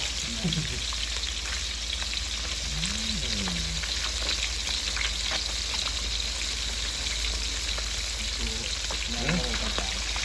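Fish frying in a pan at home: a steady, dense sizzle and crackle of hot oil runs throughout, with brief voices coming through intermittently in the background.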